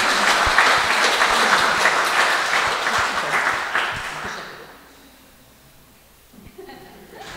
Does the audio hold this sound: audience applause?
yes